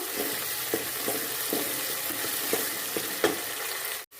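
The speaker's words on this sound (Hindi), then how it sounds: "वो अब इसमें प्याज डाल दिया था। अब इसको हम फ्राई कर लेंगे।" Medium-sized chopped onion frying in hot cooking oil for a mutton and green bean curry, a steady close sizzle with periodic soft scraping stirs, no talking, ending with a brief dropout.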